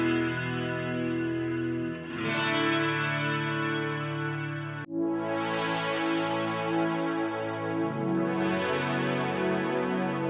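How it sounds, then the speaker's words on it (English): Electric guitars strum big, open chords drenched in chorus and reverb, each chord ringing out long and lush with shimmering sustain and a fresh strum roughly every few seconds. "The guitars are doing some nice, just big chords with a lot of like chorus and reverb."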